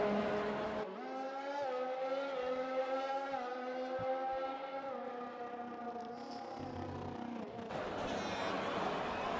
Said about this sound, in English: listen to that Red Bull engine